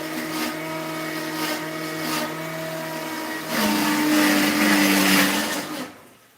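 A kitchen mixer grinder runs with a steady whirring motor drone that grows louder and harsher midway, then cuts off near the end; no voices are heard.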